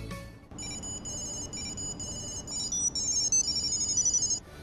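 A Tile Bluetooth tracker rings out a Jingle Bells ringtone, a bright, clear electronic melody of tinkling notes playing close and loud after a short pause at the start.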